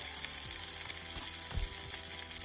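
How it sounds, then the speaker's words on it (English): Beef fat renders in a hot skillet just used to dry-toast cashews, giving a steady high hissing sizzle with faint crackles and a soft scrape or two underneath. "and now I render the beef fat"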